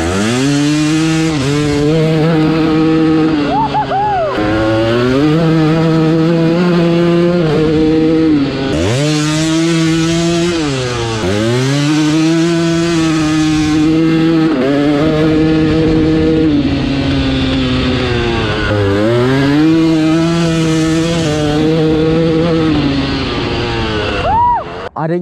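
Yamaha YZ125 two-stroke dirt bike ridden off-road in low gears, its loud buzzing engine rising and falling in repeated revving surges as it accelerates and backs off, held close throughout with no talk.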